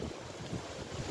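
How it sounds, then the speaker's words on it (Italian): Wind blowing through a park in Rome, a soft, low rumbling gust with microphone buffeting, faint and steady without talk. "oggi tira vento e cadono anche rami"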